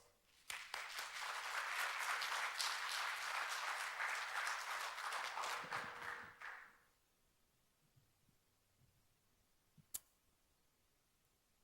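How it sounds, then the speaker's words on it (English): A tech expo audience in Singapore breaks into a warm round of dense applause that lasts about six seconds and then fades to near silence, with a single faint click afterward. "So please give him a warm round of applause."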